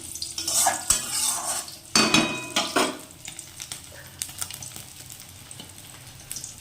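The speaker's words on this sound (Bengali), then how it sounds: "কাতলা মাছ ভাজা করছি।" Catla fish fries in a pan as a metal spatula clatters and scrapes against it, with louder bursts of stirring early on and a quieter sizzle with small clicks afterward.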